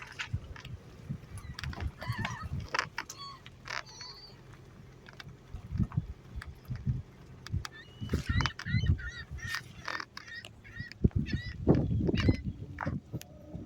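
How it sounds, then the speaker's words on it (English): Gulls on the Lake Erie shore at Sheffield, Ohio call repeatedly in sharp, overlapping squawks, some near and some farther off, over a low outdoor rumble. "the one thing you'll get a lot when you're by a lake are what you should probably just call lake gulls"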